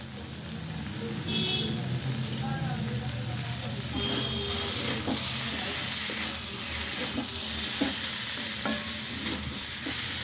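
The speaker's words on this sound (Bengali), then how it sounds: "আমার ভালোভাবে মশলাটা কষিয়ে নেওয়া হয়ে গেছে" Spice paste for pumpkin curry, with fried pumpkin and salt added, sizzles steadily in a pan while a spatula stirs and taps against the metal, a faint voice occasionally under the frying hiss.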